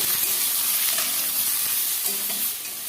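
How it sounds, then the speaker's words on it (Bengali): Vegetables with salt and turmeric fry steadily in a pan, a dense continuous sizzle with occasional soft stirring scrapes, close and fairly loud throughout, no voices. "এবার সবজিগুলোকে ভালো করে ভেজে নেব"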